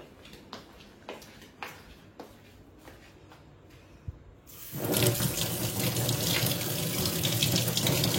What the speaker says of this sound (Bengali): চলো এটাকে ধুয়ে আনি।